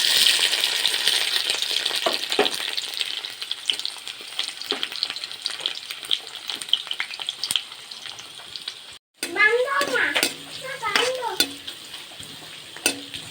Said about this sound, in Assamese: পিঁয়াজখিনি অলপ ব্ৰাউন কালাৰ হোৱালৈকে ভাজি আছোঁ।